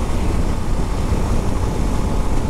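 Loud, constant wind buffeting while a Suzuki Gixxer SF motorcycle cruises around 80–85 km/h on a deserted highway at night, a continuous low rumbling roar with no letup.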